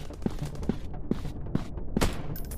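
Gunfire in a PUBG-style counter-terrorist first-person shooter video game rings out as a rapid series of five or six loud, sharp shots over a dense, busy game soundtrack.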